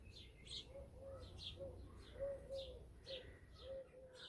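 Birds calling around nests outdoors, repeated soft cooing notes alternating with brief higher chirps in a loose rhythm, fairly faint, against quiet background.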